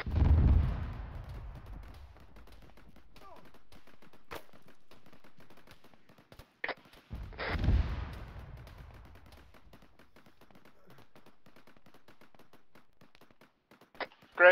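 Explosions and gunfire in a military shooter video game, with a loud blast at the start, a second heavy explosion midway, and scattered sharp shots between and at the end.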